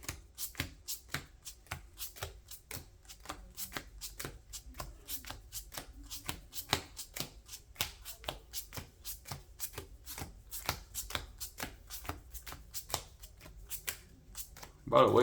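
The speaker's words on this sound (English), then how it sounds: "So we're gonna shuffle up real good" Sleeved trading cards are riffled and shuffled in quick, steady rhythmic bursts, close and crisp, with brief snapping clicks that keep going the whole time.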